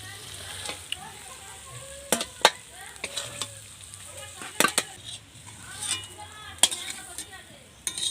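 Chicken frying in a pan for chicken chow mein is stirred, with a quiet sizzle and repeated sharp metallic scrapes and taps of a spatula against the pan, close and irregular, no talk.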